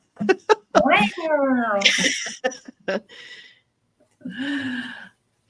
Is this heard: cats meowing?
yes